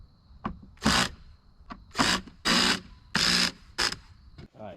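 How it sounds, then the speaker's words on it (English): A powered driver tightens the screws on a Jeep Wrangler JL spare-tire brake light, making five or six short, close whirring bursts separated by brief pauses, with faint handling noises in between. "Tighten those screws back up."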